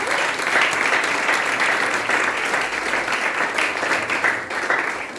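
A church congregation gives sustained loud applause for Jesus, dense steady clapping from a large crowd filling the room and continuing throughout.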